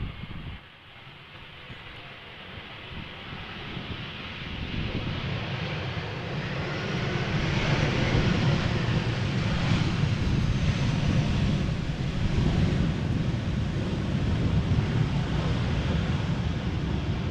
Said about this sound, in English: Airbus A319 arriving from Lisbon is this